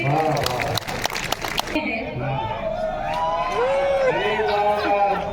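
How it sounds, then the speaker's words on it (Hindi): An audience at a Hindi poetry recital in Kawardha claps after a bhajan, a short burst of dense applause that stops abruptly, followed by someone speaking over a faint musical tone. "भजन समाप्त, तालियां बजाइए"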